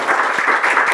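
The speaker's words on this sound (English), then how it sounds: "A round of applause for them and also for Frida" Brief burst of audience applause for a panel of speakers at an education discussion, steady, close clapping lasting about a second.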